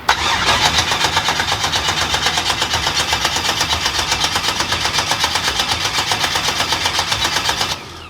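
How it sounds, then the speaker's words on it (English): Rusty Chevy Nova race car engine cranking over and over without firing, a steady rapid starter-motor chug lasting about eight seconds, loud and close, then cutting off abruptly. "I still don't know why this thing is choosing to act the way that it is and not fire."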